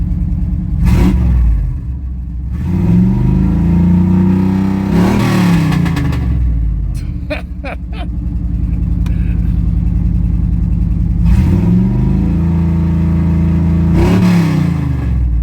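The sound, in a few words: pickup truck engine starting and running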